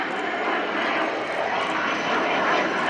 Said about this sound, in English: as Vincent comes in for his slow pass, and he'll be accelerating out of this into a Cuban 8 manoeuvre